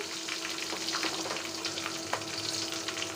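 Onions and garam masala sizzle steadily in hot oil in a home kitchen, a dense continuous crackle with faint stirring scrapes and a few sharper pops, no talking.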